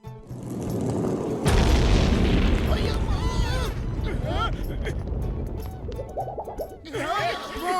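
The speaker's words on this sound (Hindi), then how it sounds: "फिर से सब रॉकेट चल गए" Cartoon rockets launch all together with a loud, sustained roaring boom and rumbling blasts, followed by whooshing and whistling effects, while animated characters talk over the noise.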